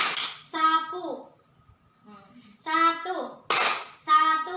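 Children in a classroom clapping game strike a single burst of hand claps between a young woman's called-out instructions, with a second clap near the end; the voice dominates.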